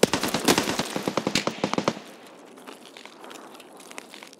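Gunfire in the video game Escape from Tarkov, played at night, comes as a rapid burst of about fifteen sharp automatic shots over two seconds, then fades into quieter rustling and faint noise.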